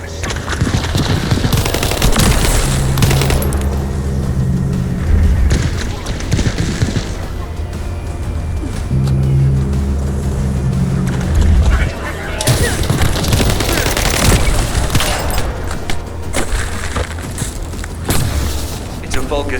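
Sustained turret gunfire during an ambush in The First Descendant video game, loud and continuous with heavy rapid bursts and booming impacts that swell and ease across the stretch, under game sounds.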